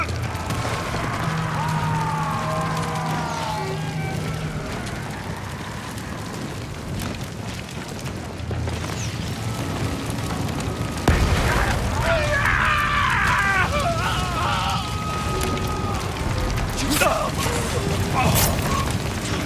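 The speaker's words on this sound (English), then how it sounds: "Look at that fire." In the video game Ghost of Tsushima, a fire catches after a torch is lit and roars steadily with deep rumbling booms and crackling. Voices talk over it, and a louder burst comes partway through.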